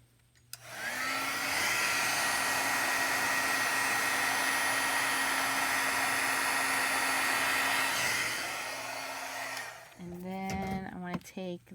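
A craft heat tool blows hot air over a handmade firework cityscape card, a loud steady whoosh running for about nine seconds before cutting off, followed by brief talking.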